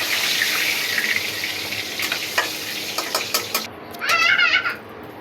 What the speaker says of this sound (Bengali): বন্ধুরা, আমার পটল ভাজাটা হয়ে গেছে,